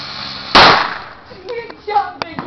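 A single firework explodes with a loud, sharp bang that decays into crackle, followed by quieter scattered pops and whistling bits of debris, with a voice talking faintly afterward.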